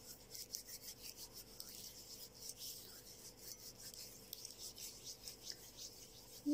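Hands are rubbed and massaged with an oily natural hand scrub made from natural ingredients, giving soft, faint, rhythmic rasping strokes that repeat close by with no talk, then a brief louder bump at the end.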